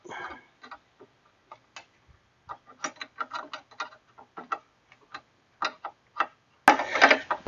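A 10 millimeter ratchet wrench tightening a brake line on a Dodge Neon: a series of sharp, dry clicks in irregular bursts, close and isolated, followed by a brief louder rattle at the end.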